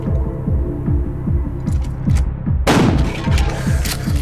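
A shotgun fires in the video game Buckshot Roulette: one sudden loud blast cuts in partway through over a low, rhythmic throbbing game soundtrack.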